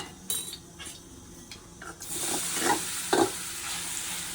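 Meal maker chunks frying in a pan, with a few utensil taps and then a broad hissing sizzle under a couple of stirring scrapes.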